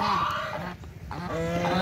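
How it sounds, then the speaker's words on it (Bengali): Domestic geese honk outdoors in loud, nasal, overlapping calls that run almost continuously, close by. "রাজহাঁস, রাজহাঁস এগুলো"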